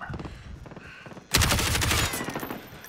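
Dense rapid gunfire from Call of Duty Modern Warfare 2019 in a Piccadilly hardcore domination match, loud overlapping bursts erupting suddenly after quieter rhythmic footsteps and scattered shots.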